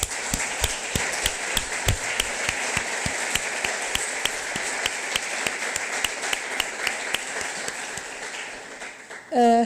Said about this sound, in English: I would ask you to join me in a big applause for this larger team